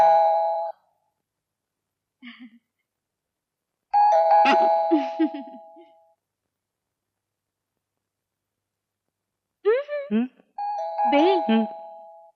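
A house doorbell chimes several times in separate ding-dong bursts in an indoor scene from a 1988 Marathi comedy film, with spoken voices between and after the rings.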